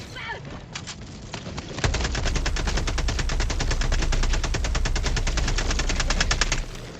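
Rapid automatic gunfire in the video game Helldivers II, a sustained, loud burst of evenly spaced shots after a few scattered earlier reports, close and dominant with voices beneath.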